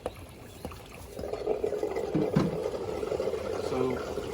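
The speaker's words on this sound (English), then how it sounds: "So now the water's draining down through there as opposed to out here." Water drains through a Pentair pool filter as a steady, low trickling gurgle that swells after the first second and continues, with a few clanks and handling knocks.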